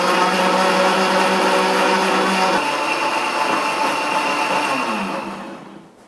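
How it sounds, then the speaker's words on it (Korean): Loud whirring blender mixes a vodka cocktail, running steadily, its pitch shifting slightly partway through before the motor winds down and fades at the end. "이 상태에서 바로 블렌더 믹서를 하면 됩니다"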